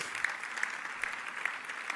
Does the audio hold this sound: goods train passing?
no